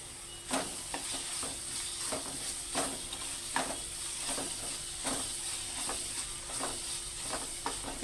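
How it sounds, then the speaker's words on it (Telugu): Ginger paste fries in a pan under a constant sizzle, with a spoon scraping and stirring it in repeated short strokes, close and moderately loud. "అల్లం పేస్ట్ వేసుకుని అటు ఇటు తిప్పుకుందాం"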